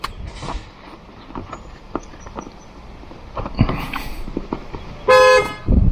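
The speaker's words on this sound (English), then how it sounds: "Just honked my horn." A car horn gives a short, loud honk near the end, set against quiet garage-like handling noises and faint taps while a driver-assist device is being installed in a car.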